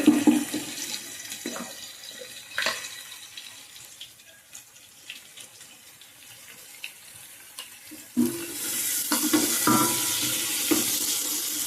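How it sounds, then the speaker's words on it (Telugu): Onions, green chilies and tomatoes fry in a pan for a village-style spotted snakehead fish curry, giving a soft crackle with scattered clinks that swells into a louder, steady sizzle near the end. "ఉల్లిపాయలు పచ్చిమిరపకాయలు టమాటాలు అన్నీ అయితే బాగా వేగుతూ ఉన్నాయి"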